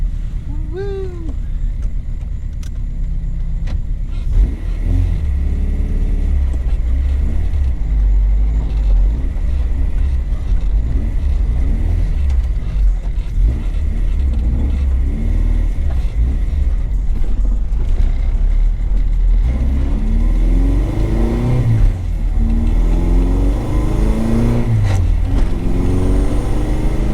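Honda CRX with a B20 VTEC engine on its first drive, a loud, steady engine rumble throughout with rising revs around the middle and end, while a person speaks over it.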